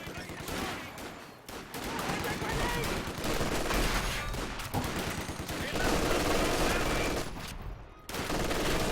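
Volley gunfire in a competitive video game match, dense overlapping bursts of shots rolling almost continuously and loud, with a brief lull near the end.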